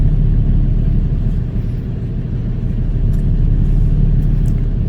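Road traffic in a jam, with a heavy low engine rumble from idling and creeping vehicles close by, steady throughout with faint higher noises near the end.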